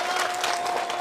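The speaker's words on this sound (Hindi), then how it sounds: "सीटियां बजा के, तालियां बजा के।" A Jaipur audience claps steadily, dense moderate applause throughout with a sustained whistle tone running under it.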